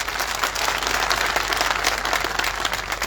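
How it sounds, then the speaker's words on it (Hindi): A large outdoor crowd at a foundation-stone ceremony for irrigation projects claps loudly and steadily, a continuous wash of many hands with a low rumble beneath and no voices over it. "वो भारत माता के वीर सपूतों के लिए एक बार जोरदार तालियां होनी चाहिए"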